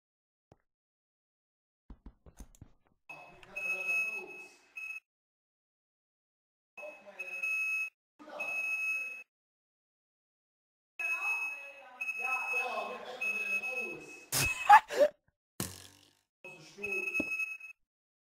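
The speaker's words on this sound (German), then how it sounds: "Das ist ja wie Rauchmelder." A smoke alarm shrills in a house on fire during a video game clan war, repeated high electronic beeps in bursts over several seconds, with a sharp crash near the end.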